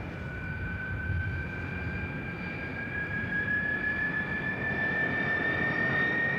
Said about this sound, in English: The roar of a landing jet echoes the boom of the expanding city.